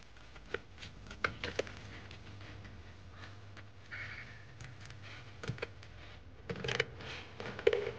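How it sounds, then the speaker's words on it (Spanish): Scissors snip at a homemade plant pot mold in short, irregular cuts and crunches, close but quiet, with pauses and some handling noise between the snips. "simplemente con unas tijeras, os va a costar un poquito, pero con paciencia se va haciendo"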